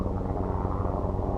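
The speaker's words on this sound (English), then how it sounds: "helicopters coming by low and slow" Military helicopters passing low and slow over a desert setting of beach deposits, a dense low rotor rumble with rapid throbbing pulses, steady and fairly loud for a brief moment without talk.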